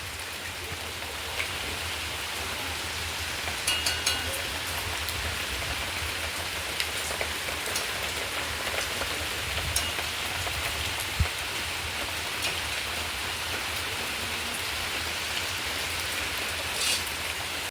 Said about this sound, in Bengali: এখানে কিন্তু সেই লেভেলে বৃষ্টি হচ্ছে দেখো ভীষণ ভীষণ বৃষ্টি হচ্ছে